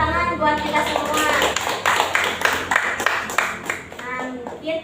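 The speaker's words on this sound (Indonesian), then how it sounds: "Tepuk tangan buat kita semua." Fifth-grade schoolchildren applaud in a classroom after a lesson, rapid bursts of close clapping that rise and fall for several seconds while a teacher's voice carries over them.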